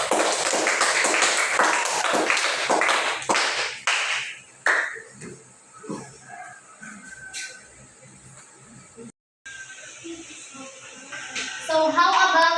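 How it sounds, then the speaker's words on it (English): Pupils in a sixth-grade mathematics classroom clap for a classmate, a burst of close, dense applause that thins out after a few seconds into scattered claps, with children's voices chattering as it fades. "So give her a round of applause, please."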